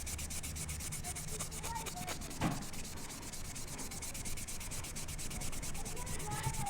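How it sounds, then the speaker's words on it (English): Steady, continuous abrasive rubbing of a fine automotive scratch pad across RX200 metal plates being stripped and polished, an even scouring hiss held close and constant with no pauses or speech. "Basically just sand the imperfections out"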